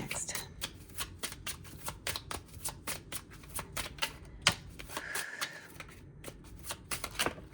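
Tarot cards are shuffled close by in a rapid run of crisp flicking riffles and soft slaps, steady and fairly quiet, with no voice over them.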